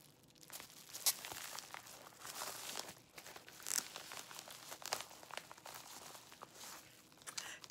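Packaging being torn open while unboxing a Louis Vuitton Monogram Porte Valeurs Cartes Credit wallet: continuous crinkling and ripping of paper or plastic, close and fairly quiet, with a few sharper tearing bursts.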